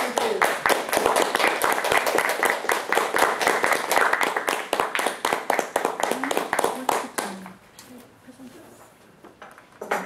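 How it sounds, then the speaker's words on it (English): Individual hand claps from a small audience ring out in a lively, fairly close round of applause, then thin out and stop, and a voice begins speaking. "A warm round of applause."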